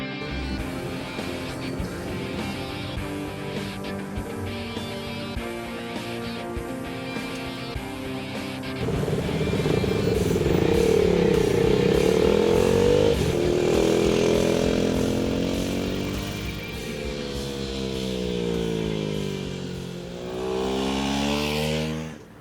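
KTM RC390 motorcycles riding near Maranello, Italy, loud and close, with a steady engine drone that swells as they accelerate and rev higher, then sweeps past with shifting pitch.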